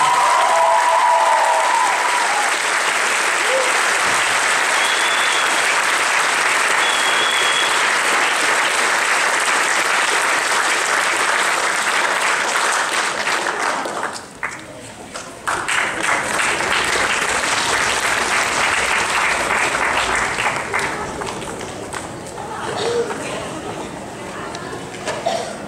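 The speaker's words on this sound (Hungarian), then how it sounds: "Nagy tapsot neki!" A large crowd applauds for a folk singing contest silver winner, sustained loud clapping filling the hall for over twenty seconds, briefly dipping midway before swelling again, with some chatter mixed in.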